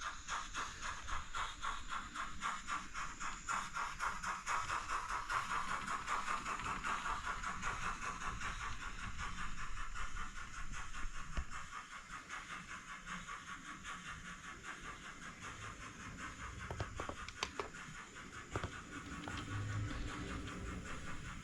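Fast rhythmic chuffing and hiss from the sound fitting of a model steam locomotive, steady and fairly faint, fading slightly midway with occasional clicks and no talking.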